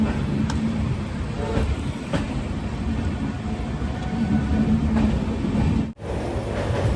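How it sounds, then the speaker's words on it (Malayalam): A local train rumbles steadily along an elevated track overhead in Kolkata during rain, a continuous loud low roar with faint rhythmic clatter, briefly cut off near the end. "മുകളിലേക്കൂടെ ലോക്കൽ ട്രെയിൻ മാത്രമാണ് പോവുക."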